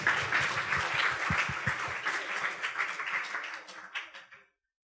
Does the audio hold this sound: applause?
yes